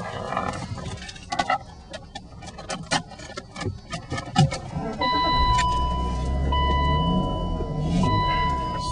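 A BMW 328i with tan leather interior and sunroof: light clicks and key sounds at first, then the engine catches about halfway through and settles into a smooth, steady idle close by.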